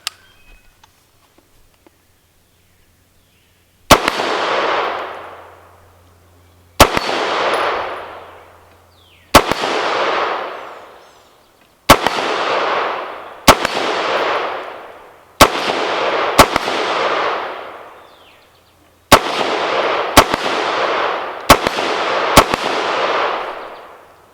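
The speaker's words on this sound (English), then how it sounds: "Shoot a little steel." .223 rifle shots ring out at a range, fired at steel targets: about a dozen loud, sharp cracks spaced irregularly, each followed by a decaying echo, with no talking.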